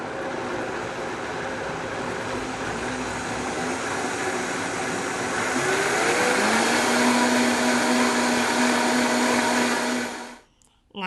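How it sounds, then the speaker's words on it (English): A Vitamix blender whirs loudly and steadily up close as it blends maple syrup, cacao powder and coconut milk, the motor pitch rising partway through before cutting off abruptly near the end. "Our first 3 ingredients are now in the Vitamix, and now we're going to blend."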